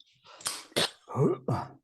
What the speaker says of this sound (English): I'm just going to do a little bit of a cough for a moment.